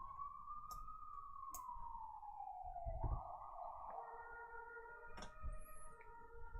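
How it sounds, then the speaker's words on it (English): An ambulance siren wails faintly in the distance near a hospital, its tone sliding slowly down and then shifting to a steadier pitch as it passes, with scattered soft clicks and room noise. "Ambulance is really active around here."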